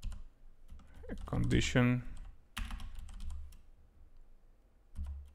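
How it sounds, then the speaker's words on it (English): Brief bursts of typing on a computer keyboard, soft clattering keystrokes heard under someone speaking close to the microphone. "So let me type this as a comment here"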